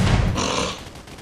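Rapid bursts of gunfire from the online shooter game Absolute Force Online, a short loud volley that trails off within about a second.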